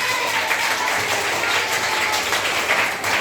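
A classroom of students applauds, with dense, steady clapping from many hands that holds throughout at close range and carries no clear talking.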